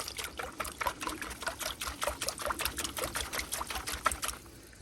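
Water poured into a bucket while repotting and root pruning a young hazelnut tree outdoors; a close, rhythmic series of splashing pours and trickles in quick repeated bursts, ending in a brief quiet.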